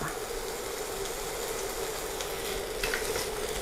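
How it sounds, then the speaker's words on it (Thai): Chicken and sweet peppers stir-fry in a pan, a soft continuous sizzle with occasional scraping of the spatula, faint and steady. "เดี๋ยวเราก็ผัดทุกอย่างให้สุกนะคะ"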